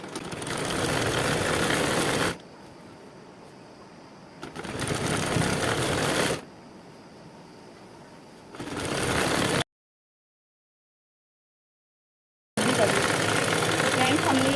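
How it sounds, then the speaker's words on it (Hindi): Electric sewing machine stitching along the edges of a fabric pocket on a hanging wall organiser, a close, loud whirring hum in three steady runs separated by quieter pauses, then a stretch of silence before the stitching starts again. "इस तरह से सिलाई लगा लेंगे इसके किनारे किनारे।"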